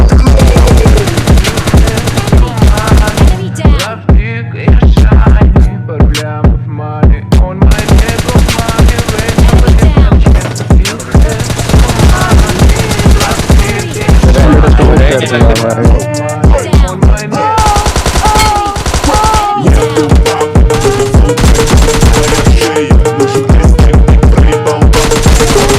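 Gunfire and headshot effects from the PUBG Lite video game play loud and dense over a throbbing music track, with rapid bursts of automatic fire throughout.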